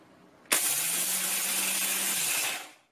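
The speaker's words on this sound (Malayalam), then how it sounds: "വറുത്തെടുത്ത ചെറുപരിപ്പ് പൊടിക്കാൻ പോവാൻ." A kitchen mixer grinder crushing roasted split moong dal starts abruptly, roars steadily and loud for about two seconds with a whirring motor whine, then winds down and stops.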